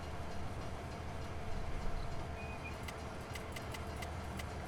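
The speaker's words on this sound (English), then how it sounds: "Let's stop the train." A train slows to a stop in Farming Simulator 19, a faint steady rolling rumble of wagons with brief squeal-like tones and light clicks toward the end.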